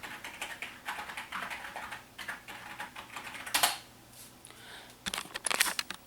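Keys clatter on a computer keyboard as a setup password is entered on an older Intel-based PC, a run of quick, light taps with a few louder clustered strokes near the end, close and alone.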